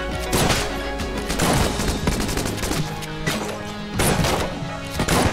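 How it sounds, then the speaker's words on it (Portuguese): Enter the Gungeon video game gunfire: rapid, dense bursts of shots layered over a pulsing game soundtrack, loud and continuous with several heavier impacts, no speech. "o tiro ficou tudo juntinho"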